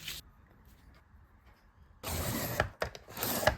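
A paper piecing quilt block being trimmed down, giving a quiet faint rasp at first, then two loud close bursts of cutting or rubbing near the end.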